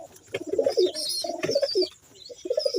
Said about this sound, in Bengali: এটা হচ্ছে নোর পায়রা এটা হচ্ছে নোয়ার পায়রা এটা হচ্ছে মাদি পায়রা